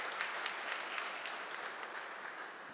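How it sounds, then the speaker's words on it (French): An audience applauds steadily at a business export conference in Normandy, a dense, even wash of clapping heard from a moderate distance without talk. "on peut applaudir Christophe Lecourtier, s'il vous plaît"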